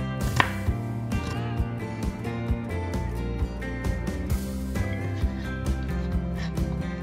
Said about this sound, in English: So let's go chop our vegetables.